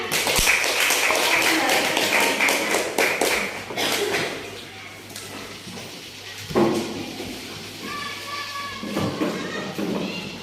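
Classroom audience applauding after group 3's presentation, a sustained burst of clapping from many hands over room noise, tapering off midway with scattered taps and a voice afterward.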